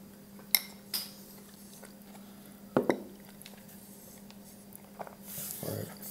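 Spoon clinking and scraping in a bowl of Greek yogurt with almond butter and frozen blueberries, a few sharp taps and scrapes spread out amid quiet background, with soft rustling near the end.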